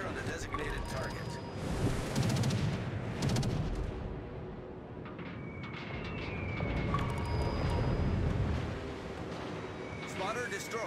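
Naval gunfire in a warship video game, heavy booming volleys rolling out in repeated bursts over a constant windy rumble, loud and sustained, with voices talking over it.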